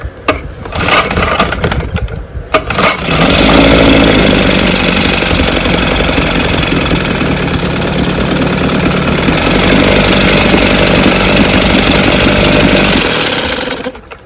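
A 1964 Evinrude 5.5 HP outboard engine with a freshly cleaned carburetor starts after a couple of brief bursts, then runs loud and steady with a rough, rattling knock.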